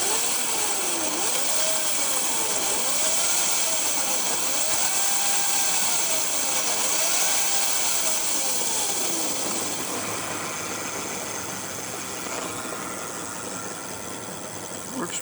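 A modified Razor scooter's small motor, driven by a cheap mechanical kid's pit-bike twist throttle, whines steadily and rises and falls in repeated swoops as the throttle is twisted, loud and close, easing off toward the end.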